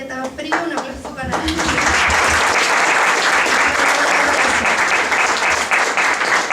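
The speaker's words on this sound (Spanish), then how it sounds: "Un aplauso para" Audience applause at a daytime gathering: a voice speaks briefly at the start, then loud, dense clapping swells in and continues steadily for several seconds.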